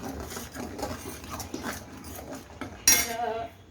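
Onion, garlic and ginger paste is sautéed in oil, heard mainly as close scraping and clinking of a spoon against the pan with a soft sizzle underneath, ending in a sharper metallic clang.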